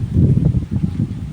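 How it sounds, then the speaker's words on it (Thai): Wind blows over open rice fields in the morning countryside, a low, rough rumble buffeting the microphone in uneven surges. "เสียงลม"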